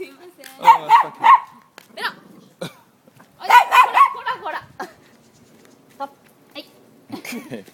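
A dog that has run out of a house in a neighborhood barks in a few short bursts, near and fairly loud, with pauses between, while a person talks at times.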